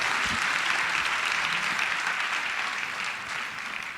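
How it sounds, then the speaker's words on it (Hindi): Loud, sustained applause from a crowd welcoming the Aligarh team onstage at a devotional bhajan skit performance, steady and dense throughout without speech. "तो जोरदार तालियों के साथ स्वागत"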